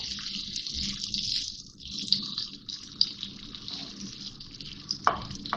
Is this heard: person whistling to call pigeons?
no